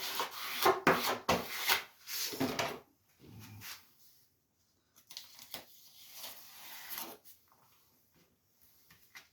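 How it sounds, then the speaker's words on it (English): Rubbing strokes of a burnishing tool across a heat-gun-burned wood surface, a run of quick scraping passes near and fairly loud, a pause, then a second softer series of rubs. "Get a good burnish on it."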